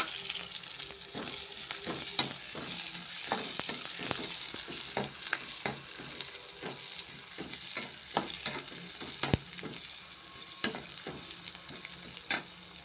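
Chopped garlic sizzles and crackles in a hot pan while a utensil scrapes and taps against it in irregular strokes, close and moderately loud.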